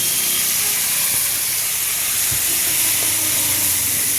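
Wet pointed gourd drops into hot oil in a pan over a red-hot stove and gives off a loud, continuous steamy hiss and sizzle, close up and unbroken. No one speaks.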